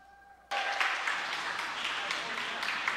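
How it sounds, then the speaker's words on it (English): A crowd at a CBC Sports event, the Windsor Cup 2023 men's bronze round, breaks into applause after a short quiet lead-in. The clapping is loud and sustained, filling the rest of the moment with a broad roar of hands. "Big round of applause for Nikki."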